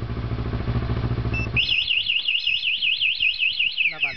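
A Kawasaki Ninja 650 engine idles briefly before being cut off, then a TEXNO motorcycle anti-theft alarm wails loudly with a rapid rising and falling siren tone, close up.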